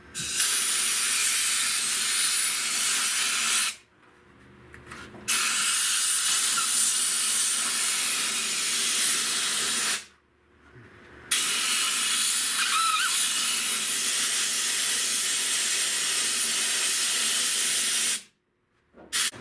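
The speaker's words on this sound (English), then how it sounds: "You got compressed air without being able to get it all on your camera." Compressed air blowing during body repair of a dented inner rear wheel well on a 1970 Buick Wildcat: three long, loud, steady hissing blasts, each cut off abruptly by a brief silence.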